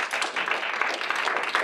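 Sustained applause from a university lecture audience welcoming a philosophy professor, dense and steady clapping throughout with no voices over it.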